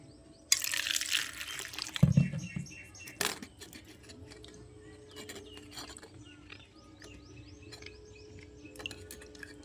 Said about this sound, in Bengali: ধুয়ে খাই।